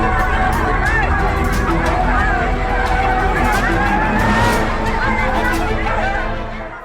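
A dense crowd of women jostles and scrambles for free saris at an election event in Brahmpur, Buxar, Bihar, with loud, continuous overlapping shouting and chatter throughout.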